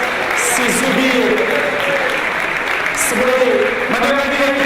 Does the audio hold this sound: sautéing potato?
no